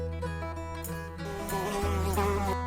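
A housefly buzzes past close by indoors, a thin, wavering drone that shifts in pitch as it moves over a steady low hum, with no voices.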